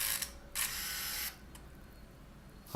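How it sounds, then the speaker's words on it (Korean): Canon Autoboy 3 point-and-shoot film camera with its back open, giving short mechanical shutter clicks and whirring bursts close to the microphone, with quiet gaps between them. "이 상태에서 뚜껑을 열어서 셔터를 눌러보세요."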